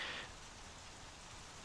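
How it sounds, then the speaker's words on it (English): Wind sweeps dry leaves past outdoors, a steady hiss much like falling rain, with a brief brighter rustle at the start and then an even wash. "It sounded like rain for a second. That was actually just leaves going by."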